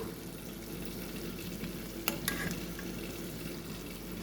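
Fried chicken sizzles in a pan as curry leaves are stirred in, a steady frying crackle with a couple of sharp utensil taps partway through and no talking.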